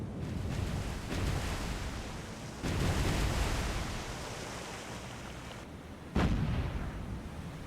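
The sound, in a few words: battleship guns firing in War on the Sea video game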